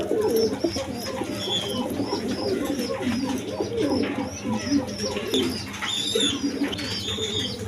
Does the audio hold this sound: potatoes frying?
no